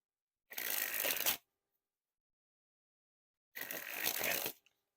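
Bicycle Harry Houdini playing cards springing from hand to hand, two quick crisp riffling bursts of about one second each separated by silence, close and clear with no talking.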